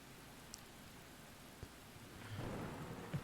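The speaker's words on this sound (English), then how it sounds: "you can hear the thunder already" A thunderstorm with steady rain pattering over surfaces, a low rumble of thunder swelling near the end and a few sharper knocks, all fairly faint and distant with no voices.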